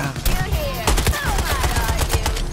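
Rapid bursts of gunfire from Suicide Squad: Kill the Justice League crackle loudly and repeatedly in a busy fight, with people talking over the shots.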